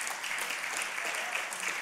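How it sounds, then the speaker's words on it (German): Sustained applause from an audience in a hall honouring the men present, a steady, dense patter of many clapping hands that continues evenly throughout without a break. "wollen wir den Männern einfach mal einen riesen Applaus geben?"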